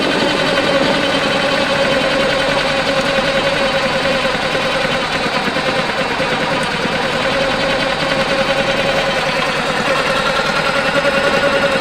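A Yamaha outboard motor idles right after a cold start with a steady, rapid, ticking chug. The sound is continuous and fairly loud, and no one speaks over it.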